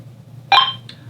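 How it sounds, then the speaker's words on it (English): A single short electronic chirp with a bright tonal tone from a Motorola DLR110 Curve two-way radio, followed by a faint second blip, over a low steady hum. "We press and hold the voice assistant button. We wait for a chirp"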